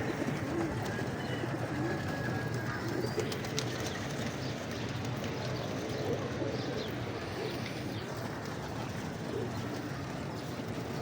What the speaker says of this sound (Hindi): एक से एक ज़बरदस्त कबूतर यहाँ पे मौजूद है